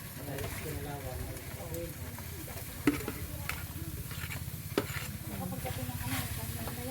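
Vegetables for a simple countryside lunch sauté in a pan, giving a steady soft sizzle and stirring scrape throughout, with an occasional clack of a utensil against the pan and quiet talk in the background.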